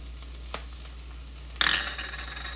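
Garlic dropped into hot ghee in a pan for palak khichdi bursts into a sudden loud sizzle after a quiet start, then settles into a steady hissing fry.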